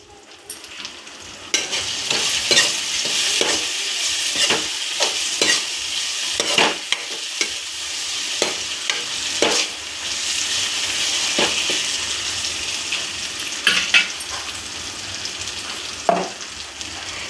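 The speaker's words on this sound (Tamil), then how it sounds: "இது பாருங்க, தக்காளி வந்து நல்லா வதங்கிடுச்சு." Tomatoes fry in a pan with a steady, close sizzle, while a spoon scrapes and stirs through them in irregular clacks and swishes; no one speaks.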